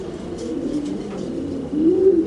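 Pigeons cooing inside a loft of Egyptian racing pigeons, a steady low murmur of soft coos with one louder, rising coo near the end and no voices.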